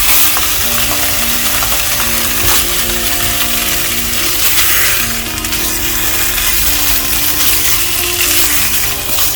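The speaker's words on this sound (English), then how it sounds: "I'm frying this fish medium to slightly high flame" Catfish (magur) sizzles and crackles steadily in a hot pan over a medium to slightly high flame, a dense continuous fry with occasional scrapes and clinks, no voices.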